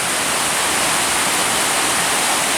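Indian Creek Falls waterfall in the Great Smoky Mountains, a loud, steady, close rush of falling water that fills the whole moment without a break.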